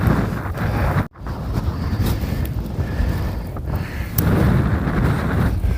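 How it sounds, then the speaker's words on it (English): Strong wind buffets the camera microphone on a Cairngorms mountain summit near Braemar in Scotland, a loud continuous rumbling roar with gusty swells and one brief dropout. "probably fighting the wind now with the camera"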